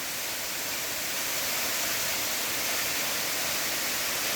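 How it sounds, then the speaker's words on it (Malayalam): A waterfall beside a large natural cave rushes in a dense, unbroken hiss that stays loud and even throughout, with no voices or other sounds. "നമ്മുടെ ഗുഹയുടെ ഒരു സൈഡിൽ കൂടെ തന്നെയാണ് മനോഹരമായ വെള്ളച്ചാട്ടം ഉള്ളത് കേട്ടോ"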